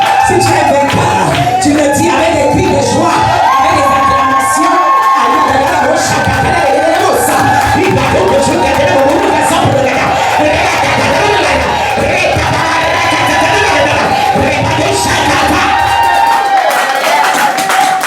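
A church congregation erupts in loud, continuous joyful cheering, shouting and clapping, a thick wall of crowd voices with no pause across the whole stretch.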